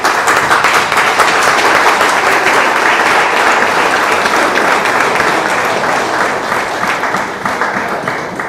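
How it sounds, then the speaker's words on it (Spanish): An audience at a gathering of Techint workers breaks into sustained, loud applause to welcome a speaker, a thick, continuous roar of many hands that holds steady for the whole stretch before easing slightly at the end. "vamos a recibir con un aplauso al compañero Piro"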